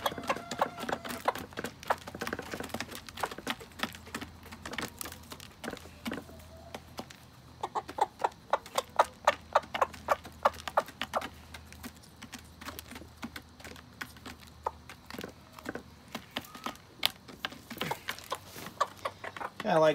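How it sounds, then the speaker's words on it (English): A bantam rooster clucks in short, irregular bursts close by, mixed with clicking and tapping noises, and a person talks at times. "He's a cute little bantam rooster."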